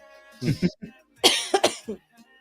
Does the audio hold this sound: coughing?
yes